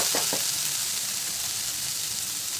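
Onion, tomato and ginger-garlic paste sautéing in a pan, a steady close sizzle with a couple of brief stirring scrapes near the start.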